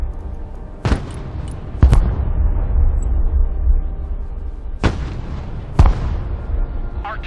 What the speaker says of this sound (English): Artillery at your command, sir. Engaging targets with direct fire.